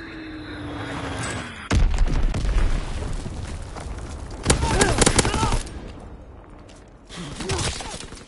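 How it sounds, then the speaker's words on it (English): Grenade blast in the Call of Duty WW2 video game: a sudden loud boom, with further bursts of explosions and gunfire rolling on through the battle and a shouted voice over the combat. "Grenade, get down!"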